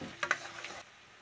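Spices sizzle in a hot tempering (tadka) in a pan, a soft steady hiss with a couple of sharp stirring clinks near the start, then fading quieter after a moment.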